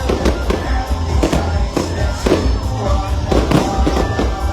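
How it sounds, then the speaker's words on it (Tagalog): A fireworks display at the Bacolaodiat Festival in Bacolod sets off repeated sharp bangs and crackles over low rumbling booms, with a crowd murmuring and voices audible beneath the blasts. "Kag highlight man sa kayawatan ng fireworks display."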